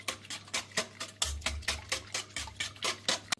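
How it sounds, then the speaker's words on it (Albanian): Cake batter sweetened with vanilla sugar is being mixed in a bowl for a tray-baked petulla, giving steady rhythmic scraping and stirring strokes, about three per second, close and fairly quiet with no voices. "Përzijejmë edhe një herë, derisa gjitha produktet hidhen dhe të bëhen bashkë."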